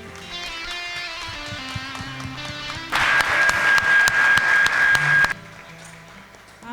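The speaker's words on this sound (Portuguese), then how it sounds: "Vamos aplaudir ao Senhor." A church congregation applauds during an evening worship celebration, a burst of dense clapping rising over sustained music and dying away after a few seconds.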